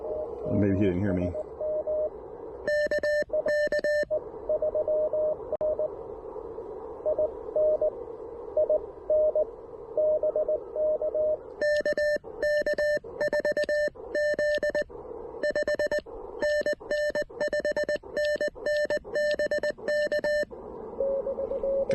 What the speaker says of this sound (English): when you heard Tommy's signal over here, and it sounded a little rough